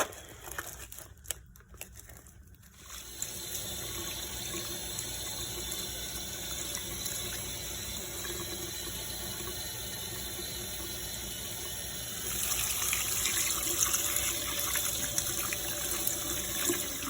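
Pork feet are rinsed under a running kitchen tap, a steady hiss of water that grows louder partway through, after a few brief crinkling handling sounds at the start.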